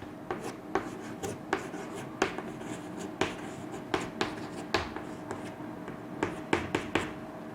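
Writing on a classroom board during an English lesson: a run of short, faint taps and scratchy strokes in an irregular rhythm, close by and heard alone without talk.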